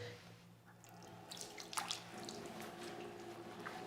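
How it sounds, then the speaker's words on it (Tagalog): Tap water runs and splashes softly over an arm being washed during wudu ablution, a steady faint flow with a few brighter splashes, no talking. "hugasan mo na ngayon ang iyong braso"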